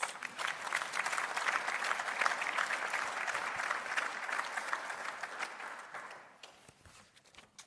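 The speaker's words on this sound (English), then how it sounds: "let's give ourselves another resounding round of applause" Delegates at the Namibia–Botswana plenary session opening ceremony break into sustained applause, a dense even clatter of many hands that tapers off toward the end.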